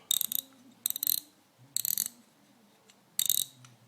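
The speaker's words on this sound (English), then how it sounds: "I'm just going to start cranking it forward again with the screwdriver." A star wheel being threaded onto a Cummins P7100 injection pump AFC housing and cranked forward with a screwdriver, heard as four separate bursts of close, crisp ratcheting clicks with short quiet gaps between them.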